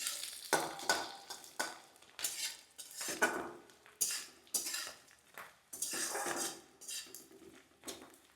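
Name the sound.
coconut spice paste being fried and stirred in a pan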